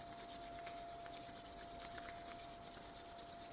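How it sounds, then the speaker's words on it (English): Two hands rub together in a steady, soft, continuous friction hiss, close and alone over a faint tonal hum. "Bring the hands together and rub them together."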